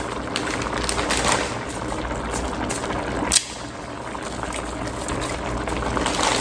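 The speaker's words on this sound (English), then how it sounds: "We're going to submerge that down, reduce our pot to simmer." One pot spaghetti in vodka sauce simmering on the stove, a steady close bubbling and fizzing that continues without pause, with one small knock partway through.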